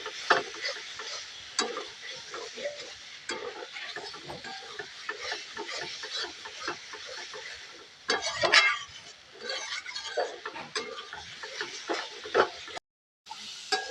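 Fried potatoes and spices stirred together in a pan, soft repeated scraping and clinking of a spatula over a low sizzle, close with a short gap near the end.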